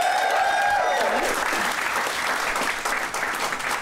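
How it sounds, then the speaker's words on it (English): A live podcast audience applauding at the European Beer Cafe, a sustained wave of clapping with a voice trailing off at the start, heard close and loud throughout. "give us a round of applause if you've ever heard the podcast before"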